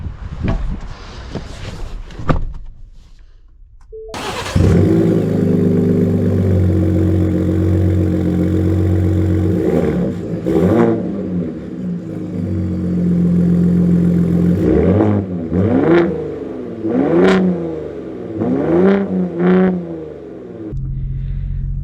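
A Ford Raptor pickup with the 35 package starts up and then idles with a deep engine rumble, revving several times in rising surges close by, loud and with no talking.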